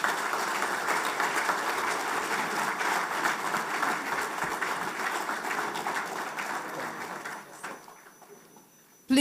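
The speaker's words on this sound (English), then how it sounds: "Please, let's keep the round of applause going one more time" Sustained, dense applause from a seminar audience at an international trade event fills the room evenly, then thins and fades toward the end.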